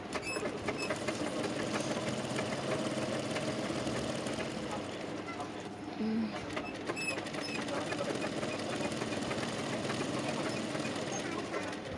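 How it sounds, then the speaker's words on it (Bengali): A sewing machine stitches together the panels of a six-piece petticoat, running as a continuous fast mechanical whir with a brief pause midway before resuming. "এবার আমি দুটো সাইড সমান করে সেলাই করে নিচ্ছি।"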